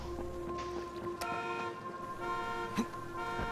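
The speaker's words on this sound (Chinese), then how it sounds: "那边有一个喇叭了" A car horn honks in the video game Dying Light 2, several sustained tones over a constant game background with brief clicks, moderately loud.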